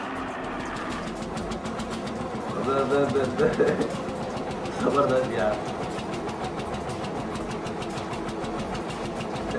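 A tractor engine drones steadily with a rapid pulsing beat while it tows a broken-down tractor during a stunt. The engine noise is loud and continuous, and a voice speaks over it partway through.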